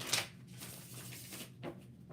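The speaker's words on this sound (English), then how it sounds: "this one shuffles just like the regular Rider-Waite" A tarot deck in the Rider-Waite style is shuffled, with a crisp riffle burst near the start and then softer, steady card rustling close by.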